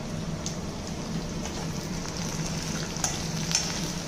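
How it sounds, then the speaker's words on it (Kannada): Chilli powder frying and being tempered in a pan, a steady crackling sizzle with occasional sharper pops and spoon scrapes, close and continuous with no voices. "ಸ್ವಲ್ಪ ಅಚ್ಚು ಖಾರದ ಪುಡಿಯನ್ನು ಹಾಕಿ ಚೆನ್ನಾಗಿ ತಾಳಿಸಬೇಕು."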